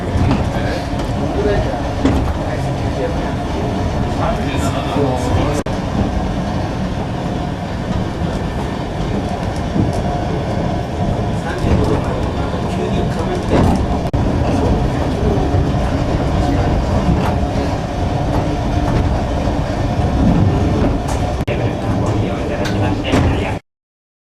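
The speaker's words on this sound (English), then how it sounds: "notice that it is a legitimate cable car" A cable car on Mount Mitake, Tokyo, rumbles and rattles steadily along its line, with clacking and creaking throughout.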